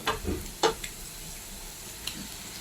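Chicken sautéing in a pan, with a few brief scraping stirs and soft sizzle bursts over a quiet, low background.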